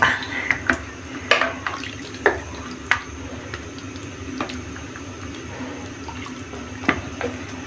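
Water is poured into a pot of chicken nilaga broth, giving a low, steady wash of pouring with a few brief clinks and splashes scattered over several seconds, close and fairly quiet, with no talking.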